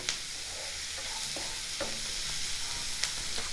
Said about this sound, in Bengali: পেঁয়াজগুলো বেশ লাল করে ভেজে নেব।